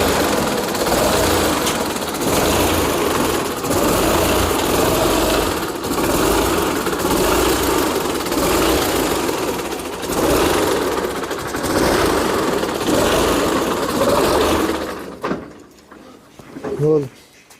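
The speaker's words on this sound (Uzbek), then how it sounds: "Motorlar juda chiroyli holatda ishlab turibdi." A tractor engine runs steadily at a tractor and spare-parts market in Kokand, giving a loud, continuous mechanical rumble for about fifteen seconds before it cuts off, with a few brief knocks at the end.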